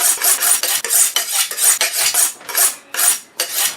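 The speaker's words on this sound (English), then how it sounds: "I'm going to slice it really, really thin." A knife slices meat very thinly for pemmican, a close run of brisk rasping strokes repeating in a quick, fairly even rhythm with short gaps between cuts.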